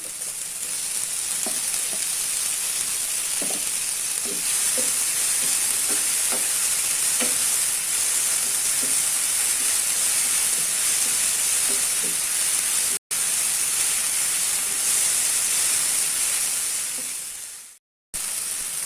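Tomatoes fry for chicken kurma in a pan with a loud, constant sizzle and hiss, broken by soft stirring clinks and scrapes, with two brief dropouts near the end, close and without talking.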